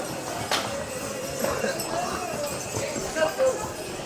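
Horse hooves clip-clop in a few scattered steps amid outdoor crowd noise and chatter on the Amarnath Yatra route at Baltal.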